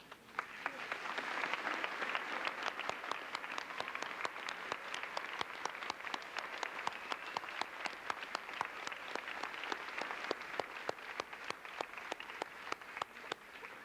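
Sustained applause from an audience at a 2002 National Honor Society induction ceremony, steady dense clapping throughout with many hands, no talk over it.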